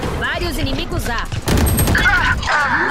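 Rapid gunfire bursts from the tactical shooter game Valorant, loud and close, several shots clustered over chaotic in-game noise, with players talking throughout.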